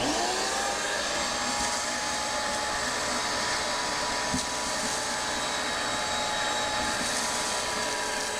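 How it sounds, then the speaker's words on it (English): Steady, loud vacuum cleaner roar as a chimney and stove are vacuumed out, sucking up ash and soot in one continuous drone with no breaks. "we're going to go ahead and vacuum this out"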